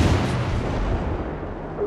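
Heavy naval artillery fire in the World of Warships game, a loud sustained booming barrage filling the whole clip with no speech.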